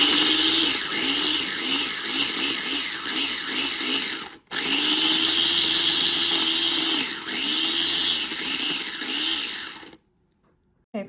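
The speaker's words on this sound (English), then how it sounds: "I just love this little Cuisinart food processor" A small Cuisinart food processor chops onion, a loud steady motor whir with a rising and falling pitch that stops briefly near the middle, runs on, then cuts out near the end.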